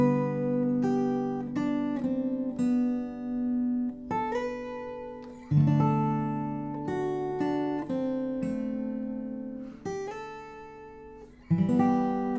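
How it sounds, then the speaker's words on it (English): Guitar rings out arpeggiated chords and melody notes with clear plucked attacks and sustained overlapping tones, a few louder strums marking chord changes, up close and alone. "We're gonna play a bunch of arpeggios."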